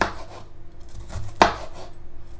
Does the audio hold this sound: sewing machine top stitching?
no